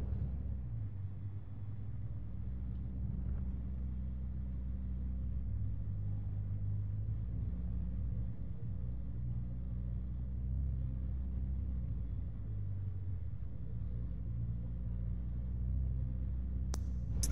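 A car rolling along a road in the game Hitchhiker, a steady low rumble of engine and tyres, constant and moderately loud from start to finish, with no one talking.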